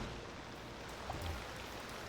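Steady rain falling on a city street in the Cities Skylines 2 video game, a constant soft hiss of drops at low level with no talk.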